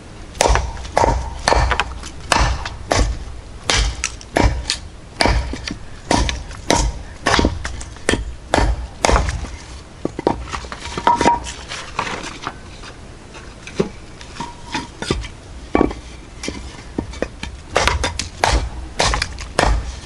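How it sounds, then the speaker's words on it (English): Repeated sharp chopping strikes of a Vanadis 4E steel knife on a two-by-four and oak, loud and close, in an uneven rhythm with brief pauses between bursts of blows. "let's do some chopping"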